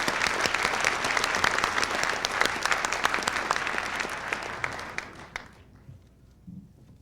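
Audience applause at the Art Institute of Seattle Class of 1999 graduation ceremony for three residential design graduates, a dense sustained clapping from a large crowd that fades out near the end.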